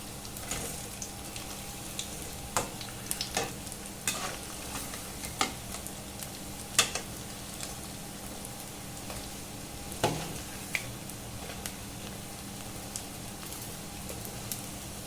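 Medu vada, urad dal fritters, fry in hot oil with a steady close sizzle and occasional sharper pops and crackles, running continuously with no voices.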